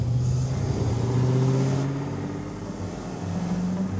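A Ford Mustang's engine revs and pulls hard close by, a loud, steady mid-pitched drone that rises, then eases off briefly before building again.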